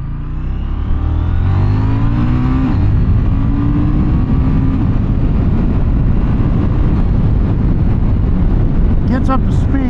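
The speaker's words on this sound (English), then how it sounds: "It is a bi-directional quick shifter. It does have some nice pops too as you're decelling." A 2024 KTM 990 Duke motorcycle with a bi-directional quick shifter, its engine droning loud and close as it accelerates, with rising pitch sweeps between shifts and a few sharp pops near the end.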